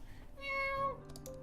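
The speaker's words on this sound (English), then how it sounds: "Oh, that cat is adorable." A cat in the Tokyo Dark video game lets out a clear, drawn-out meow in the middle of the clip, with faint game ambience around it.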